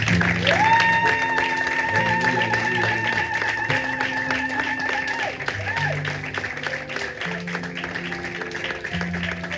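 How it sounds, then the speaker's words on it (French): A church congregation at a Sunday service claps in sustained, dense applause, with keyboard-like musical tones ringing out alongside the clapping throughout. "Lèvons-nous maintenant, nous allons acclamer la merveilleuse parole de notre Seigneur."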